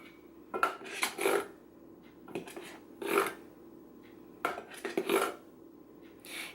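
A spoon handle scrapes back and forth across the rim of a measuring cup full of flour, levelling it in several short, dry rasping strokes with brief pauses between, close and fairly quiet.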